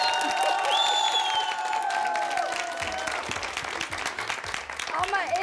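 Applause from a studio audience at a Turkish TV show, a dense steady clatter of clapping across the whole stretch with a voice talking over it and some whistles.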